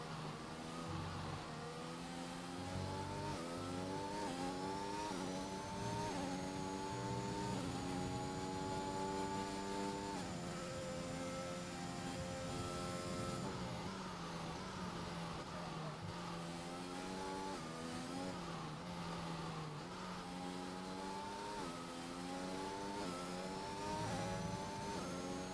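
Race cars lap the Great Britain circuit in a league race of a racing video game on fresh tyres. A continuous layered engine whine rises and falls through upshifts as several cars run close together, with no commentary over it.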